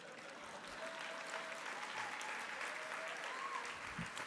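An audience at a speech in Dallas, Texas claps steadily, a broad, continuous patter of applause heard from a distance, with faint voices and cheers scattered through it.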